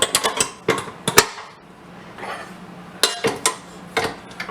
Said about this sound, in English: Now we're going to attach this to our mixer.